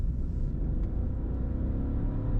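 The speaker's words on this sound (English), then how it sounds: "So let's take this Audi A1 onto the highway and see how it handles at higher speeds." An Audi A1 Sportback 25TFSI drives along a road, giving a steady, close, low rumble of engine and tyres that holds even for a couple of seconds with no talk.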